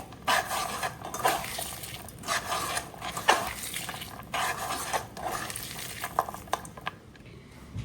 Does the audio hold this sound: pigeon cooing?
no